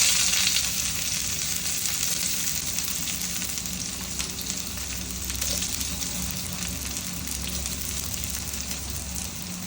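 Cinnamon, cardamom, cloves and onion sizzle steadily in hot oil for a mushroom gravy, a close, continuous crackling hiss with no voices over it.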